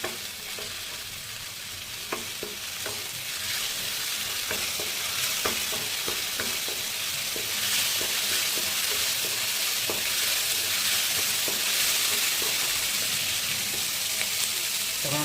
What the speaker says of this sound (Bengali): লবণ দিয়ে এই আদা রসুন পেস্ট আর পেঁয়াজটাকে ভালো করে ভেজে নেব।